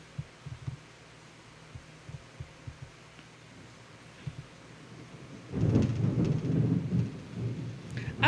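Thunder rumbles during a thunderstorm with rain: several soft distant thumps at first, then a loud, close, rolling crash swelling over steady rain.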